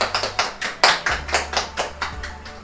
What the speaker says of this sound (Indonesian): Ya, anak-anak berikan tepuk tangan kepada Desa dan Citra.